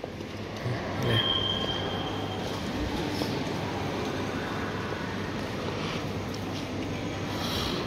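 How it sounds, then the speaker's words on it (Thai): A train pulling out of a station on a Laos journey from Oudomxay to Luang Prabang, with a steady rumbling roll of wheels and car noise, a brief high squeal early on, continuous and fairly loud throughout. "รถไฟออกมาตอนนี้"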